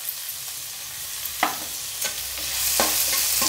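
Onions for a mushroom gravy sautéing in a pan, a steady frying hiss broken by a few sharp scraping stirs, the sizzle swelling louder toward the end.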